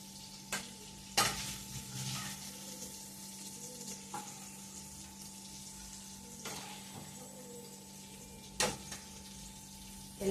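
Paneer frying in a pan in a home kitchen, with a steady low sizzle throughout and a few sharp clinks of a utensil against the pan at intervals.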